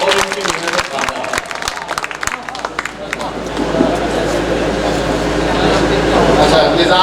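Audience applause breaks out at an all-night All India Mushaira poetry gathering in Maudaha, Hamirpur, a dense crowd clapping that swells and holds steady after scattered voices and babble.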